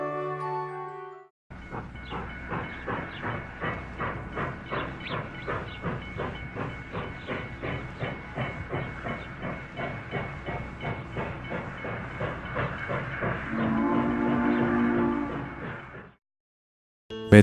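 A steam train, the Galaxy Express 999, pulls away with steady rhythmic chuffing and hissing steam, then a long steam whistle sounds near the end before the sound cuts off.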